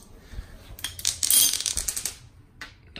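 Loose metal tools and bolts clink and rattle in quick bursts, close by, as someone rummages for a 10 millimeter socket during a B16A3 engine rebuild.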